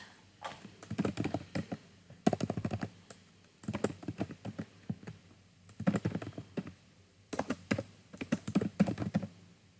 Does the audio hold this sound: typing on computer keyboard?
yes